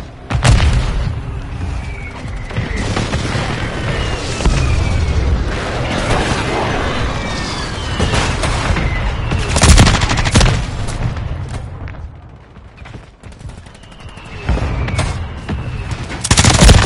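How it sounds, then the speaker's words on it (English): Explosions from a hostile airstrike in Modern Warfare 3 crash repeatedly alongside sustained gunfire and machine-gun bursts, loud and dense across the whole stretch, with brief lulls between heavy booms. "Move to hostile airstrike near your location."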